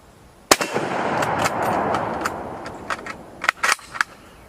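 A 6.5 caliber carbine fired outdoors: one sharp, loud crack early on, followed by a ringing tail and several more sharp reports and clicks near the end.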